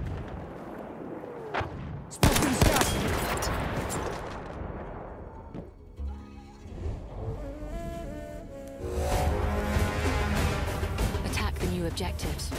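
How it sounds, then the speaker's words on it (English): Enemy artillery barrage in a video game battle: heavy booming blasts and rumbling impacts, with a loud burst near the two-second mark and a dense roar of fire returning toward the end, all under spoken voices. "Wait for the enemy artillery barrage to stop firing."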